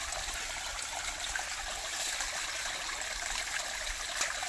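Water in a forest stream flows steadily with an even, continuous rush and no pauses or voices.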